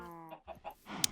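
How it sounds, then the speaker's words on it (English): Chickens in a backyard pen cluck close by, a short series of soft rhythmic clucks and a brief drawn-out call, fairly quiet with no talking. "this is where the chickens are hanging out"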